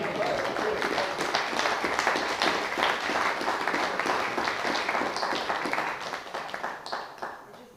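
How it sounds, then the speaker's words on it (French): Audience applause fills a meeting room, loud and steady with dense clapping throughout, fading slightly at the end, with some voices mixed in. "Non, on applaudit."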